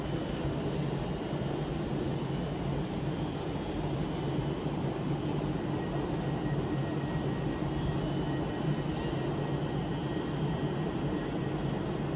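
An Avanti West Coast Class 390 Pendolino train, unit 390-157, carries passengers from Stoke-on-Trent toward London Euston, a steady low rumbling drone with faint high whines running evenly throughout and no voices.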